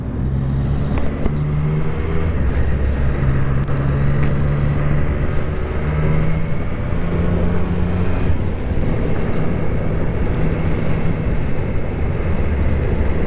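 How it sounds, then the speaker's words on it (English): A Triumph Street RS motorcycle in sport mode rides along back roads, its engine a loud continuous drone with shifting pitch and steady wind rush from the rider's position, with no talk. "The bike is in sport mode"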